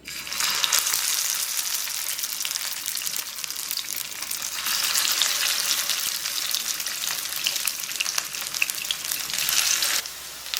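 Vegetable moong patties coated in breadcrumbs fry in about two tablespoons of oil over low-medium heat, giving a steady, bright crackling sizzle that swells when they are laid in and keeps up for about ten seconds without talk.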